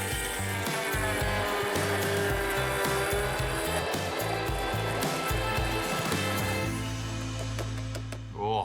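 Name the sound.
blender running while blending jalapeno lime sauce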